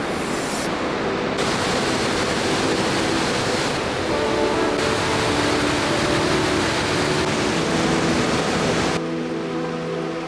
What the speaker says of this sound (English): We're gonna see the bottom of the waterfall.